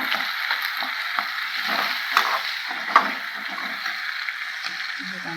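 Onions and tomatoes sauté together in a pan for egg kuzhambu, a steady moderate sizzle with occasional soft clicks of stirring, no talk over it.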